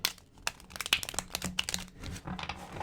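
A deck of tarot cards is shuffled briskly up close, with a quick run of crisp flicks and soft riffling slaps.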